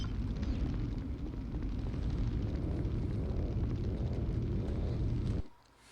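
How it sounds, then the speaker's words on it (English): A video game bomb blast unleashes a long, loud rumbling roar that stays steady for several seconds and then cuts off abruptly into quiet. "The explosion set something off."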